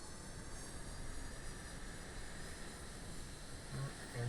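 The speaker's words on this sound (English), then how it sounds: "Engines are going up now." Jet engines of an An-225 airliner in Microsoft Flight Simulator, a steady, faint, broad roaring whoosh that stays level and swells slightly at the end, with no talking.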